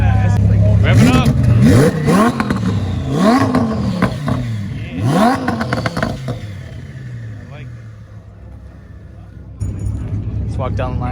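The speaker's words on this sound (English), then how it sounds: "We got a Lambo revving up." A Lamborghini engine at a busy car meet revs hard several times in a row, each rise sweeping up and dropping back, loud and close, with crowd chatter around it and a quieter idle toward the end.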